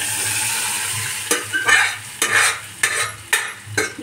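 Dal tempering sizzles in a hot pan under a soft frying hiss, while a spoon scrapes and stirs in several short bursts, close and fairly loud, with no talking.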